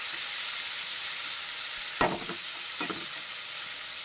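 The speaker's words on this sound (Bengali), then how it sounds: "এবার বাদ বাকি টমেটো আর মাছটা এর মধ্যে দিয়ে দেবো, দিয়ে নাড়াচাড়া করতে থাকবো" Tomato and fish fry in a pan, a continuous sizzle broken by two sharp scraping stirs of a spatula near the middle and later, close and fairly loud.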